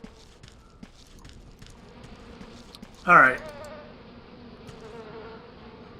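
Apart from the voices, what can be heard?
buzzing bees from an apiary in A Tale in the Desert video game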